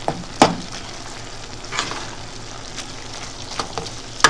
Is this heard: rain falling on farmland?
no